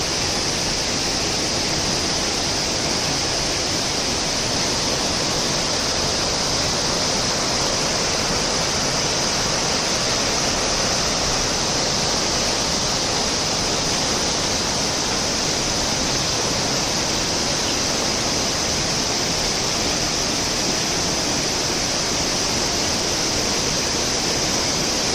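Lakkam waterfall in Munnar, a steady, loud, close roar of falling water that stays continuous and unbroken from start to finish, with no voices over it.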